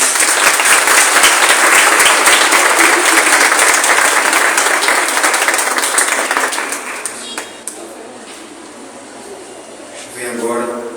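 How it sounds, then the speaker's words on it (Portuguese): A congregation at a Pentecost Mass breaks into loud, dense applause after a child's baptism, sustained for about seven seconds before fading into room quiet, with a voice speaking at the end. "Uma salva de palmas."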